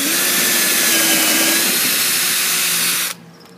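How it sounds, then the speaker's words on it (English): A power drill bores through material while a gadget for potjie cooking is built, a loud steady whine holding for about three seconds before it cuts off abruptly into quiet. "Now we want to mirror that drilling action on the opposite side."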